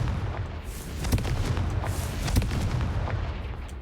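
Confringo fire spell explosion in the Hogwarts Legacy video game on PS4, a dense rumbling blast with repeated booming bursts lasting several seconds at full loudness.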